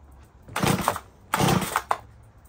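A rebuilt Stihl MS 180 chainsaw engine fires up in two short, loud bursts of buzzing revs, each dropping away to a low idle in between.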